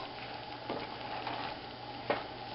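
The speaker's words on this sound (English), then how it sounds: "I wanted to sort of stir around the edge, just to mix that part that's getting darker back into it, so it cooks evenly." Caramel cooking in a pan for caramel corn, a faint low sizzle beneath a steady background hum, with two brief scraping strokes as a utensil stirs around the darkening edge.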